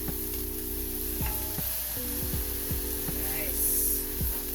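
Wild ramps, an allium, sautéing in a pan, with a steady sizzle and frying crackle under a low hum, plus a few soft clicks of stirring; no voice.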